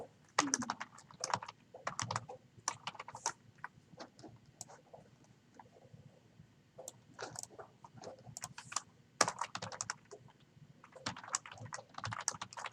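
Computer keyboard typing in a quiet classroom during a coding lesson, bursts of quick light key clicks broken by short pauses, close and fairly soft.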